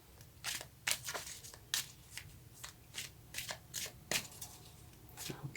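Tarot cards being shuffled by hand, a series of soft, close riffling and flicking bursts in an irregular rhythm, quiet and with no talk.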